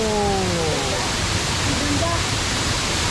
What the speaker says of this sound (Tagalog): Ganda ng talon niya.